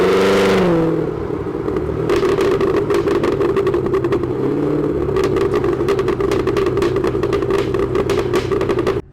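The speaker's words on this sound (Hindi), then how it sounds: "यस, ये था वो क्रेजी एग्जॉस्ट व्हीकल का" Cadillac Escalade ESV with a supercharged 6.2-litre V8, its loud aftermarket exhaust blipped hard at the start, then rumbling and revving steadily up close for several seconds with rapid clattering pulses, no talking.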